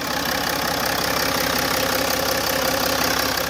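A Range Rover Velar 3.0 D300 diesel idling with the bonnet open, a close, loud, steady clattering diesel rumble with a fine knocking texture and no talk over it.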